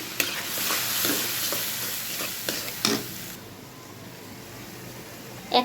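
Turmeric, red chilli powder, salt and cinnamon sizzling in hot oil for a Bengali egg curry, with steady frying hiss and a few close clinks and scrapes of stirring; the sizzle quietens partway through, and no one speaks.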